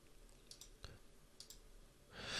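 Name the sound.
mouse clicking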